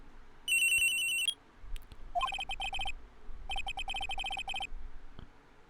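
A cell phone rings in the Ace Attorney game, a bright electronic ringtone playing in several repeated bursts of trilling tones, with brief pauses between them, clear and close.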